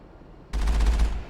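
A cannon fires in Mass Effect Legendary Edition, a loud rapid burst of booming shots with heavy low rumble, lasting under a second after a quiet start.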